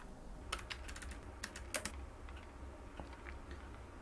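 Keys tap sparsely on a computer keyboard while entering login details into a crypto exchange account. The clicks are quiet, scattered and close, over a low room hum.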